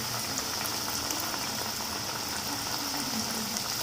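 Cireng, fritters of tapioca and wheat flour with a little rice flour, frying in hot oil, giving a steady dense sizzle and bubbling that carries on evenly throughout without any voices.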